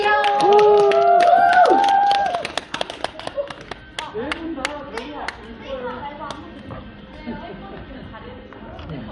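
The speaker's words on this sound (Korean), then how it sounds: "여러분 박수 많이 쳐주세요." Fans clap at a Miss Trot 2 fan signing event, sharp rhythmic handclaps picking up after a voice fades, with crowd chatter and talking mixed among the claps.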